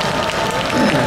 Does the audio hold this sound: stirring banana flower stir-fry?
no